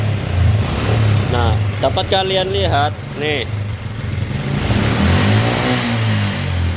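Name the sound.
Honda Kharisma motorcycle engine being revved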